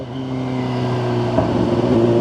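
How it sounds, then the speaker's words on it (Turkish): A Kawasaki ZX10R ridden at night through a residential street with its exhaust valve closed, giving a steady muffled engine drone that rises slightly toward the end. "mahalle arasında manuele aldım egzozu ve kapatıyorum"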